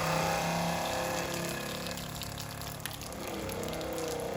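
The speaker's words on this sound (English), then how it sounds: "leave the water valve on, let the pump run" A 12V pump runs steadily while water flows through it, a continuous rushing gush with a low mechanical hum underneath, close and unbroken throughout.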